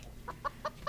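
Chickens on a farm clucking in a steady series of four short calls, moderately close, with no talk over them.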